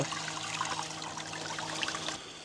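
Water spraying from a Camplux Nano 3 Pro portable gas shower, a steady close hiss and patter of falling water that stops abruptly near the end.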